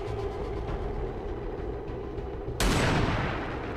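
Sniper rifle shot in XCOM 2: War of the Chosen, a single sudden loud crack that bursts out over a steady background rumble and rings on as a sustained roar.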